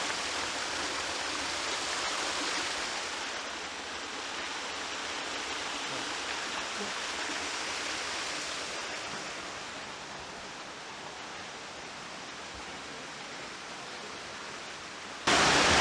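Steady broadband rush of flowing stream water in a Shivpuri forest setting at Bishnudwar, continuous and fairly close, without voices, swelling briefly louder at the very end.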